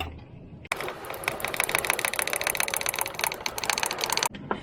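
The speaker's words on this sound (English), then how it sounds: "we've upgraded to a wee oil pump." A small hand oil pump works on an Alfa Romeo 156, giving a close, fast, rattling mechanical clicking that runs continuously after a brief quiet start and stops abruptly near the end.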